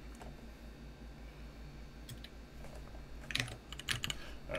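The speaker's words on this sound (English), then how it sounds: "I'll give you guys just a brief typing demo." Clicky keystrokes on a custom mechanical computer keyboard sound in a quiet room, at first sparse and faint, then louder irregular bursts near the end over a low steady hum.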